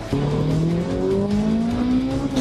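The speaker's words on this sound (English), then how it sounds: "you can feel the power and the sound of the engine" Ferrari 458 Italia V8 engine roaring loudly and steadily, its pitch climbing smoothly through the gears as the car accelerates on a track, continuous and close for the whole stretch.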